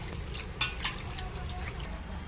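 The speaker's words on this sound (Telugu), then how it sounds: "మీకు చూపించడానికి ఇలా కడుగుతున్నాను. ఇలాగా బాగా క్లీన్ చేసుకోవాలండి." Goat tripe being washed by hand in water, with soft sloshing, intermittent splashes and drips close by, fairly quiet and continuous.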